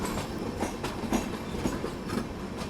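The Varanasi Mahamana Express passenger train rolls along in India with steady rumble and rhythmic clickety-clack of wheels over rail joints, heard from on board, continuous with no talk.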